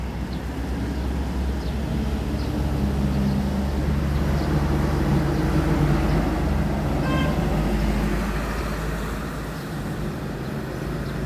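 A bus rumbles past with steady low engine noise, swelling and then fading, amid general road traffic near a tourist terminal.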